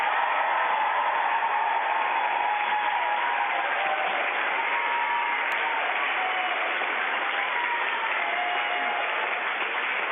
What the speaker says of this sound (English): I think Tim deserves a big cheer.